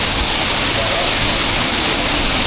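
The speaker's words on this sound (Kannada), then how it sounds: "ಇದ್ರ ನೀರಂತೂ ತುಂಬಾನೇ ಜೋರಿದೆ." Heavy water flow at Seljalandsfoss waterfall in Iceland makes a loud, steady, close roar of broadband rushing noise that never lets up.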